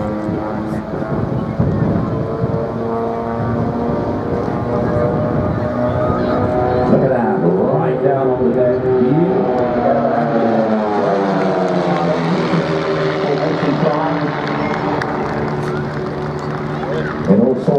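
An RV-8 aircraft makes a low display flyby at an airshow in the FlightGear flight simulator, its propeller engine droning loudly and shifting in pitch as it passes, under a commentator's voice.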